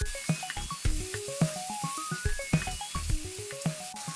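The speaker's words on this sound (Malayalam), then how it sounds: "നന്നായിട്ടൊന്നുകൂടെ ഇളക്കി കൊടുക്കുക." Duck curry masala with pepper sizzling in oil in a pan in a Kerala kitchen, stirred with a spoon that scrapes and clinks in a steady rhythm over a constant close frying hiss.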